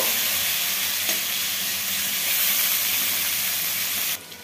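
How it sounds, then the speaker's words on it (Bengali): A steady, loud sizzle of chopped onions frying lightly in hot oil fills the clip, a dense crackling hiss that cuts off abruptly near the end. "পেঁয়াজটাকে একটু হালকা করে ভেজে নেব।"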